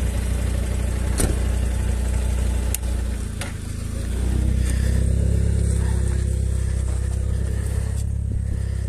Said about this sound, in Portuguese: Rapaz, eu vou deixar aqui a moto porque é um chato ruim demais aqui.